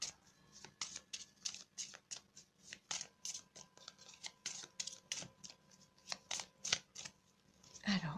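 Tarot cards being cut and shuffled by hand, a close run of quick, papery riffles and flicks, with someone speaking French at a low level underneath.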